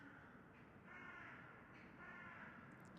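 Crows caw within the game Remember The Flowers, two drawn-out harsh calls rising and falling over a low ambient hum, faint and distant in the mix.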